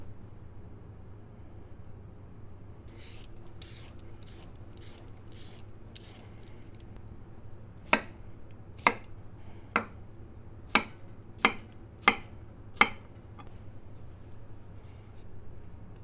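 Pak choi leaves sliced very thin with a knife on a board, a run of about eight crisp, evenly spaced chops following softer cutting and rustling, close and with no talk.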